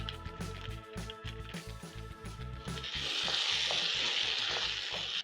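Vegetables and tomatoes for a green bean stew frying in a pan, a steady close sizzle with repeated scraping stir strokes early on, then a brighter, louder hiss as frying intensifies.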